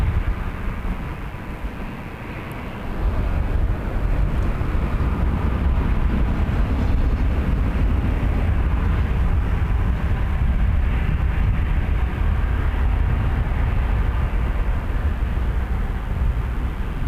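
A Jazz Embraer 175 jet at Toronto Pearson Airport on a windy night gives off a deep, continuous roar. The roar swells sharply after a few seconds and then holds loud and steady, with no voices.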